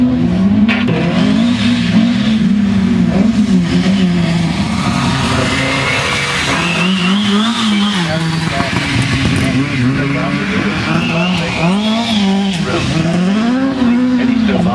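A 1970s Ford Escort rally car, driven by Jim Wheeler at Race Retro 2011, sends out a loud engine note that rises and falls as it revs through gears. Someone talks over it throughout.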